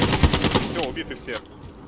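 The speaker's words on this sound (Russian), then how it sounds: "Спереди стреляет." A rapid machine-gun burst in the Warzone shooter game, loud, close and rhythmic, then breaking into a few scattered shots with a faint voice-like warble at the tail.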